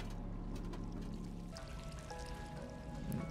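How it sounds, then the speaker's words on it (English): Water flows and pours in the video game Stray, a soft, steady trickling stream with faint tonal game sounds rising in the second half, quiet and continuous without speech. "I hear some water."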